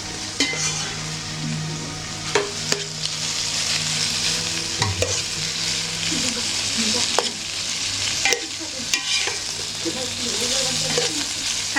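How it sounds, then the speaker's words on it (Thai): Pork stir-fries with bell peppers, chilies and onions, sizzling steadily at close range while a utensil scrapes and clacks against the pan at intervals. "พอหมูเริ่มใกล้จะสุกนะ เราก็ใส่ผักไป ก็คือจะมี พริกหยวกพริกชี้ฟ้า แล้วก็มี หอมใหญ่"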